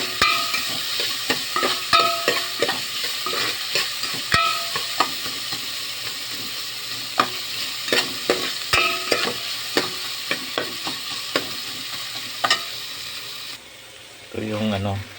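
Garlic, onion and ginger sautéing in a pan for batchoy, a steady sizzle punctuated by many sharp clicks and scrapes of a spatula against the pan, ending with a short quieter stretch.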